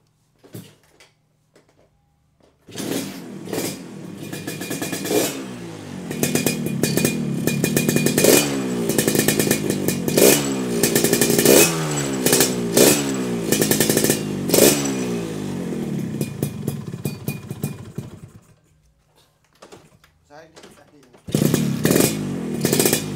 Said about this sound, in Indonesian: Terus kita tes dulu untuk mesinnya ya.